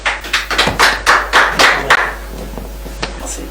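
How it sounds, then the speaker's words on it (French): A small studio audience on a diaspora music program claps in a short, sparse round of applause, a few distinct sharp claps close by that quickly thin out into scattered taps. "Nous accueillons sous vos applaudissements"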